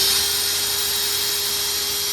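Drill spinning a freshly balanced propeller, a steady high-pitched whine with a constant tone, running smooth and continuous at close range with no voices.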